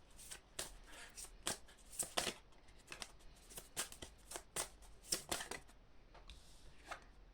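Oracle cards shuffled by hand to draw one, heard as quick, faint, close papery riffles and snaps in an irregular run of bursts across several seconds, with no voice.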